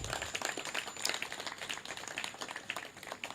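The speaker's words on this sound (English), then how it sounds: "That clap should be more than that." An audience claps at a sod-turning ceremony, a dense, steady patter of many hands that carries through the whole stretch without a break.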